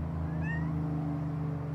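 A female house cat meows indoors, a couple of short rising calls standing out near and clear over a steady low hum, with no talking.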